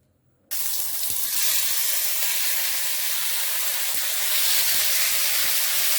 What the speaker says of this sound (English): So I now add in the marinated beef into the pan.